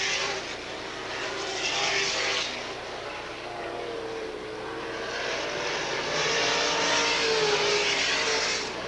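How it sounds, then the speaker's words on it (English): USAC sprint cars racing at Eldora's dirt track at the 1985 Four Crown Nationals, engines droning and swelling steadily at a distance as cars circle, a continuous roar with no talking. "Now getting ready to put a lap on Tom Bigelow in the Johnny Vance Aristocrat number 2V."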